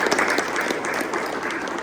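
Audience applause at a training session, a dense, steady wash of clapping from many people, loud and close, lasting a couple of seconds.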